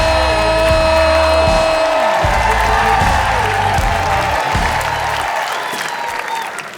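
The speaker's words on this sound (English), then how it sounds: "welcome your next comedian tonight with thunderous applause" Comedy club audience in Vancouver applauds and cheers loudly as music plays underneath, the clapping dense and continuous while the music fades out near the end.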